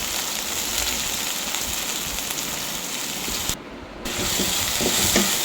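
Green beans frying in a pan make a loud, continuous crackling sizzle close to the microphone. The sound cuts out briefly at one point, then comes back just as strong.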